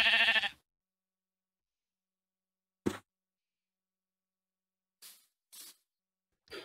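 A sheep bleats once at the start in Minecraft with the SevTech Ages modpack, followed by a few sparse, short clicks and blips separated by silence.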